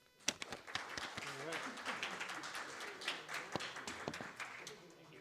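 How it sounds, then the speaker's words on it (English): A round of applause at a chapter's monthly meeting after officers are installed, steady clapping from a roomful of people with a few sharper claps, voices talking over it throughout. "Please join me in a round of applause"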